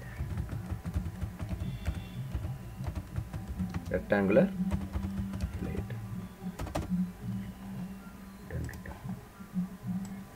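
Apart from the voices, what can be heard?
typing on computer keyboard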